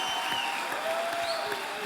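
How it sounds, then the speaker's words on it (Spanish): A crowd applauds steadily, a dense patter of many hands clapping at moderate volume with no pause. "Denle un fuerte aplauso a ellos."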